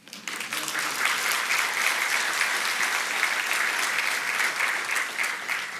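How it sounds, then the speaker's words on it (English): Sustained applause from a graduation audience at a Doctor of Physical Therapy hooding and pinning ceremony, a dense steady wash of many hands clapping that rises quickly and holds loud throughout. "You can clap for that."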